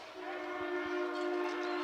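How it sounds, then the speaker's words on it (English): A local train passes near a high school football field, its horn sounding as a long, steady, moderately distant blare over the crowd's ambient murmur. "A little extra noise there from the local train coming through."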